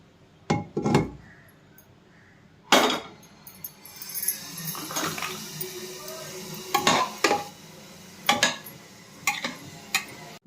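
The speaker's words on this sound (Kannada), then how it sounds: "ಈ ಲಾಸ್ಟಲ್ಲಿ ಈ ಮಿಶ್ರಣವನ್ನು ನಾನು ಕುಕ್ಕರ್ಗೆ ಹಾಕ್ಕೊಂಡು ಮಿಕ್ಸ್ ಮಾಡ್ಕೊಳ್ತಾ ಇದ್ದೀನಿ" A spoon stirring the bisibele bath mixture of lentils, rice and vegetables in a pressure cooker, making intermittent metallic clinks and scrapes against the pot with quiet gaps between the strokes.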